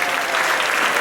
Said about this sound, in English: Let's give a big round of applause to everyone that was involved in the production of the greatest